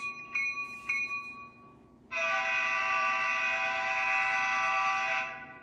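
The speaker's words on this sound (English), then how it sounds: "The horn works." Horn of an Intermountain RJ Corman GP16 model locomotive: a few faint bell dings fade out, then a loud, steady electronic horn sounds for about three seconds before cutting off.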